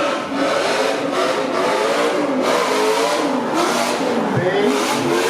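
A V8-powered drift car, number 120, launches during a qualifying round of a drift series in Miri, Sarawak. Its engine roars loudly and continuously, with the revs sweeping up and down as it drives.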